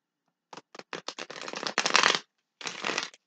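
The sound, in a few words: shuffling a deck of tarot cards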